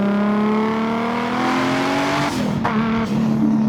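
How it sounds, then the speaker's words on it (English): A Lexus IS300 cruises on a highway around 60 mph, a steady engine hum and drivetrain drone from inside the cabin with a constant pitch and slight shifts near the end. "Right now we're in the car on the highway"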